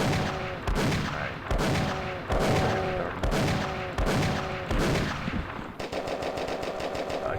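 Rapid bursts of machine gun fire from a Unity video game ring out in a rhythmic series of loud shots, then shift to a denser, tighter rattle near the end.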